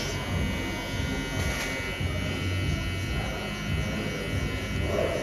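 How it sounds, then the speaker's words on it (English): Electric hair clippers buzz steadily and close up while cutting a burst fade on a tattooed head, a continuous loud drone with slight changes as the clipper is turned. "once I get more to the curvier parts where I'm turning a little bit more, I will use just the corners of my clippers"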